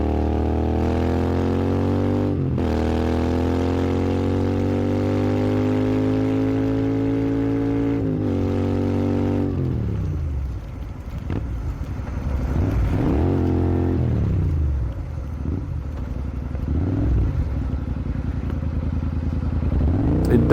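A Royal Enfield Interceptor 650 motorcycle accelerates hard, its engine note climbing steadily through several gear changes, loud and close, with rougher revving and wind rumble toward the end.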